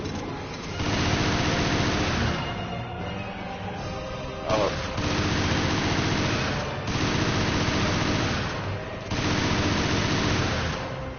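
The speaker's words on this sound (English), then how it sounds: "I'm gonna really hit this guy with like a lot of shotgun" A shotgun fires in the video game Resident Evil Revelations: loud, heavy blasts with long rumbling tails, about four of them in steady succession, each lasting a couple of seconds.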